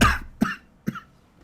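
Three separate coughs from one person, close by, the first longest and the later two shorter and sharper, spaced roughly half a second apart with quiet in between.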